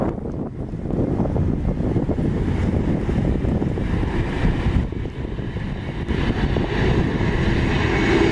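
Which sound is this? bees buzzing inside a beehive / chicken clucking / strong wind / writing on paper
strong wind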